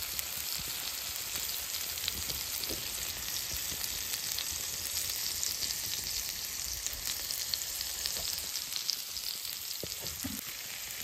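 Chicken pieces frying on a clay roof tile in Kokan style, a steady close sizzle and crackle running throughout with a few faint pops and stirring touches.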